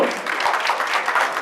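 A gala audience applauds Kimberly Carter and Erica Thomas at an anniversary celebration, a brief, dense burst of steady clapping from a crowd.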